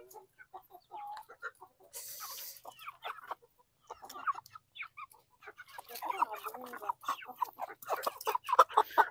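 Basilan native chickens cluck and squawk in scattered bursts, growing busier toward the end, with faint voices in the background.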